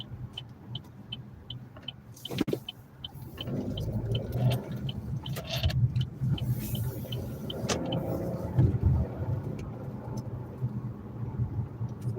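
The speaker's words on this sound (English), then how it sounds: "Now we're driving onto the highway." A car driving onto a highway around Hornell, New York, heard from inside as a steady low engine and road rumble that swells as it speeds up, with faint rattles and a few clicks, no talking.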